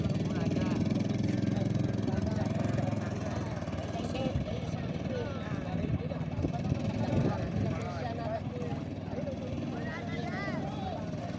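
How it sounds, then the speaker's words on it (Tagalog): A racing boat engine at a boat race runs with an uneven, sputtering misfire and weak power, heard amid crowd chatter and voices at moderate distance. "Palyado pa yata ang makina. Mahina ang birit."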